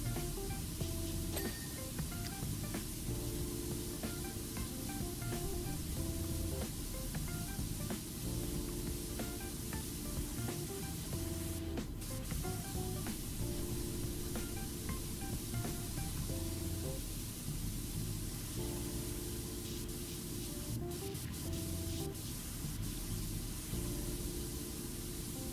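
Steady broadband hiss of a pressure washer spraying water in the game Powerwash Simulator, continuous and even for the whole stretch with a low musical bed underneath.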